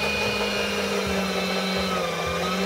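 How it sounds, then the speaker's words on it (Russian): An electric meat grinder minces ostrich meat for burgers, a steady loud motor whine with a constant hum running throughout, close by and alone with no talk. "поэтому я пущу это все дело через мясорубку"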